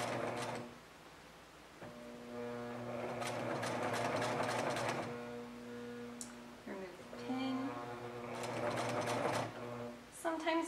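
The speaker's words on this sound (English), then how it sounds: "And then I'll sew again." A home sewing machine stitches through fabric in two long runs of steady mechanical whirring, stopping briefly between them with small clicks as the fabric is adjusted, close and fairly loud.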